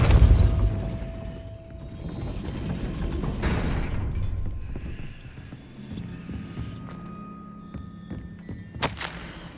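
A gate mechanism grinds and rumbles as it raises in Hogwarts Legacy, a low, steady mechanical drone with thuds and a sharp clank near the end, playing alone.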